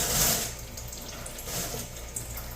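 Residual engine coolant draining from a disconnected radiator hose into a catch container on a 2001-2004 Nissan Pathfinder R50 / Infiniti QX4: a steady, close splashing trickle of liquid, continuous and alone.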